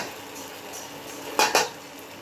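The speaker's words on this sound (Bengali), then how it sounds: "আমি এর মধ্যে অ্যাড করে দিচ্ছি মাছগুলো।" Prawns are tipped into a pan and stirred for chingri rasha kasha, with two quick metallic clanks of a spatula against the pan over a soft background hiss and no talk.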